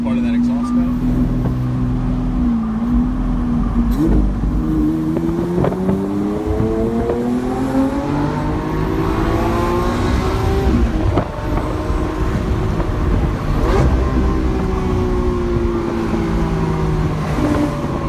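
Exhaust note of a Lamborghini SV cruising on the road, heard from inside the cabin with the windows partly down, its engine tone rising and falling steadily under wind rush.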